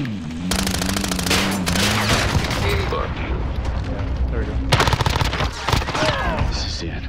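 Rapid bursts of automatic gunfire and explosions from Call of Duty: Modern Warfare, loud and dense, stopping and resuming with heavy booms, while players talk over the battle.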